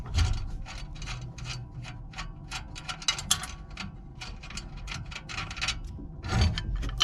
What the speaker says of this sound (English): Go ahead and take that nut off of that bolt.